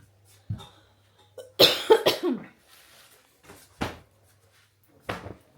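A few sharp coughs close to the mic with throat clearing, set against quiet background noise and a low hum.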